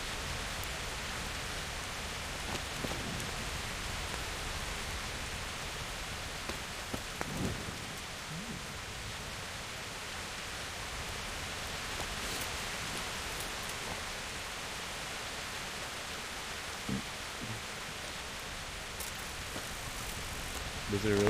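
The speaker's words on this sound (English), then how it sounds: "You mean the rain?" Steady rain hisses continuously, with occasional louder drops or gusts and a faint low rumble underneath, no talking.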